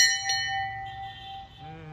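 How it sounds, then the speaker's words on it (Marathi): A single bright temple bell strike at Amarjai Mata temple near Pune rings out clearly and sustains with a long shimmering decay, close by. "अशी वाजवते का घंटी? घंटा असं वाजवता."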